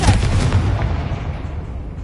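A Confringo fire spell explodes in the video game Hogwarts Legacy, one loud close boom at the start that rolls off into a fading rumbling tail.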